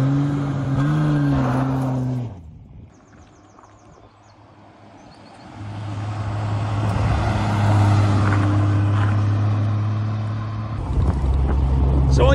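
A Triumph TR6 driving on an open road, its engine droning steadily and loud, dipping briefly before rising again as it pulls away, with a low rumble throughout.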